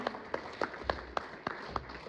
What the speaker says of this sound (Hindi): तो सर को एक बार धन्यवाद, ताली बजा के उनका अभिनंदन करेंगे एमडी सर का